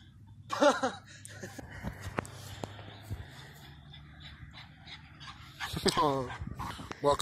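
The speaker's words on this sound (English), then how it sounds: "I just found out that Alex's puppy, Hercules, loves the snow" A puppy pants and romps in snow, its quick breathy panting and small whimpers mixing with rustling movement close by, while people talk over much of it.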